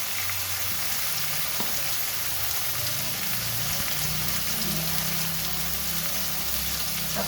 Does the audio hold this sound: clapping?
no